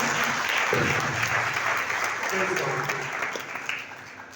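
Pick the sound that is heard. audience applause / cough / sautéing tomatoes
audience applause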